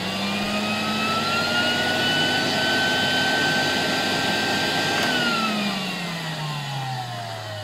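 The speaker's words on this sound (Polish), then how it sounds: "Zwiększę jeszcze troszeczkę napięcie i włączę jeszcze raz odkurzacz." A 1964 Alfa K2 vacuum cleaner with its SK-5b motor runs steadily and loud, its motor whine holding pitch, then dropping lower partway through as the speed changes, with no talking.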